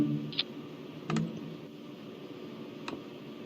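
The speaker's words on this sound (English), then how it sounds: "Now I can hear you typing." Scattered typing on a computer keyboard, a few sparse, faint clicks and taps spaced irregularly over a steady low background hum, with no talking.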